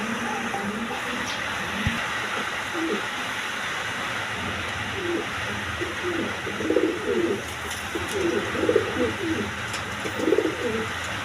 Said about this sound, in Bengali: এখানে একটা সিঙ্গেল বিউটি নর কবুতর আছে